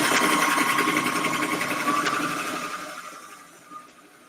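A serger overlocker sewing machine runs at speed, stitching a deliberately bad seam with a steady, close, rattling whir that slows and fades toward the end.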